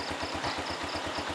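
A motorcycle engine idles at a campsite with a steady low, pulsing putter, quiet but close and continuous, with no voices.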